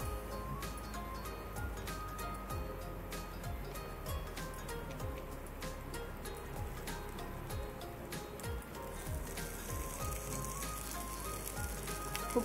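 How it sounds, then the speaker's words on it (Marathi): Okra shallow-frying in a few spoonfuls of oil in a pan gives a steady, dense sizzle and crackle throughout, fairly faint and continuous with small pops. No one speaks. "आणि भेंडी अशी फक्त ह्याच्यामध्ये सोडायची आहेत. शॅलो फ्राय करायची आहेत आपल्याला ती."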